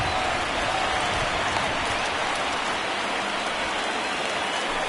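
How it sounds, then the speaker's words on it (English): Heavy rain pours down across a baseball stadium in MLB The Show 19, during a World Series game between the Yankees and Dodgers. It is a dense, steady hiss throughout, loud and close, with no talk. "the rain starting to intensify here. It's coming down a little heavier now"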